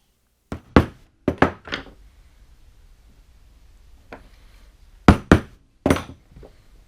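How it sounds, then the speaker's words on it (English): A homemade punch tool striking through a new gasket, several sharp hammer knocks in quick pairs and triplets with a pause between groups, loud and close in an otherwise quiet room. "With the tool complete, I can now use it to punch the holes in the new gasket."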